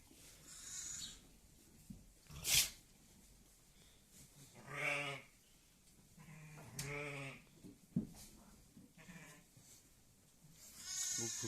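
A ewe and her lamb in a barn where sheep are eating straw, bleating several times at irregular intervals, with some calls louder and closer than others and brief rustling and knocks in between.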